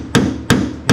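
Metal struck with a hammer while fitting the gas tank back into a Pinto Cruising Wagon: three sharp, close, loud blows about a third of a second apart.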